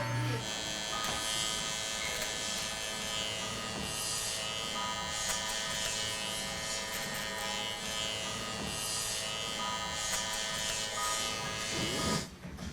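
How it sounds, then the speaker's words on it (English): Electric hair clippers buzzing continuously during a clipper-over-comb trim, a close, steady motor drone with slight changes as the blades pass through hair, stopping near the end. "Do a little bit of clipper over comb just to dial it in after that."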